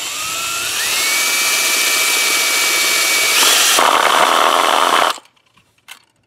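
A power drill drives a screw into a mason jar planter, its motor whining up to a steady high pitch for about five seconds, then cutting off abruptly, followed by a light tap.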